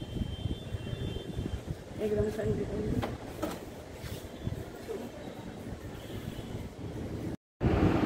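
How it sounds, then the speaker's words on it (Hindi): Wind blows across a rooftop, buffeting the microphone in a steady low rumble with gusty swells, while someone talks over it. "हवा चल रही है अच्छी"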